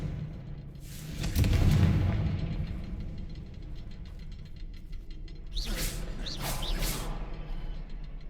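Spell blasts from Bombarda and Confringo in Hogwarts Legacy: a muffled booming burst near the start, followed later by several sharp whooshing, crackling magical bursts, all fairly quiet with no talking.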